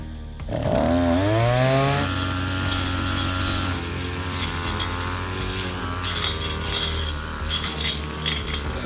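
A petrol brush cutter revs up, its engine pitch climbing sharply, then settles into a loud, steady whine while mowing weeds and grass under chestnut trees on a hillside.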